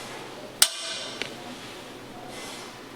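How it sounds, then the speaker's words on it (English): A single sharp metallic strike of a center punch on metal rings out with a brief metallic ring, followed by a softer second tap, then quiet room noise. "you'll want to use the center punch"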